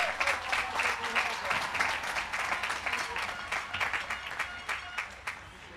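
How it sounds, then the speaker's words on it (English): High school graduates at a class commencement clap for themselves, a full, steady wash of many hands close by, loud and continuous throughout with faint crowd noise beneath. "Give yourselves a round of applause."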